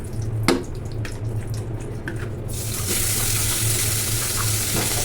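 Blended ingredients fry in oil in a pan on a gas stove, a steady hiss with a low hum, brightening into a louder, fuller sizzle midway, with a few sharp clinks early on.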